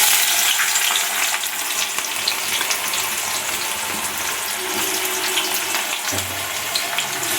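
Onions sizzle loudly in hot oil in a pan, a dense, steady frying hiss that runs close and unbroken, with a brief burst of stirring or added food near the end.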